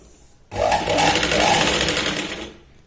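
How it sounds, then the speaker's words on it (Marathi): A sewing machine stitching a Katori blouse, one continuous loud mechanical whir of running stitches lasting about two seconds, starting and stopping abruptly against quiet surroundings. "अर्धा इंच आत घ्यायची आहे शिलाई."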